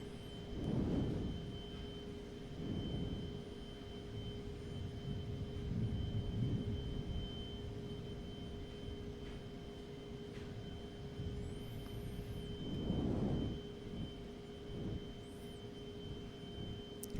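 A Cirrus SR-22 light aircraft cruising in flight in X-Plane 11 gives a steady drone with a constant tonal hum, and a few louder broadband swells come and go over it. No one speaks.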